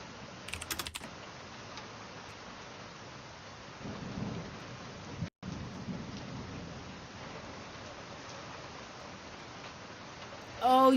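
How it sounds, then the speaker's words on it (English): Rain falls steadily with low rolling thunder swelling midway, heard faintly as if through a room, while keyboard tapping clicks in the foreground and a brief voice sounds at the end. "Oh, you have thunder? That's amazing."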